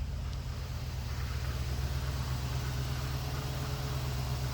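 A $1000 Corvette engine, recently coaxed back to life, idles with a steady, close, low rumble that holds an even tone throughout, with no talking.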